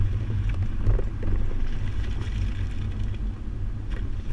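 A 2008 Honda Odyssey minivan carrying a Kuat NV 2.0 two-bike rack weaves through a slalom course, heard as a steady low road and engine rumble with some wind noise and no talk.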